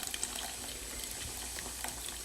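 Diet Coke glugs and fizzes into a cooking pan, a soft continuous hiss of bubbling liquid with faint pops, quiet and steady with no talk.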